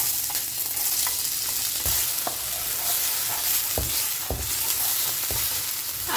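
Onion browns in oil in a pan for a ground-beef dish, giving a loud, steady sizzle broken by several sharp scrapes and knocks of a utensil as it is stirred, with no voices.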